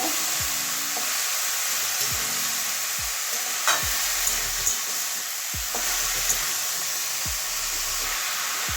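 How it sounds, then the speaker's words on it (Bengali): Green chillies and onion frying in a pan for a bottle gourd poppy-seed dish, a constant bright sizzle with intermittent stirring scrapes and low thumps, close and steady, no voices. "এবারে পেঁয়াজের সঙ্গে ভালো করে কষিয়ে নেব"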